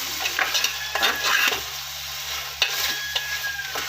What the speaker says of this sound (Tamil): இப்போ நல்லா கிளறி விட்டுடலாம்